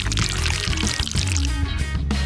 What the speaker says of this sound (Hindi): चलो सबसे पहले सांचे में न्यूटेला को डालेंगे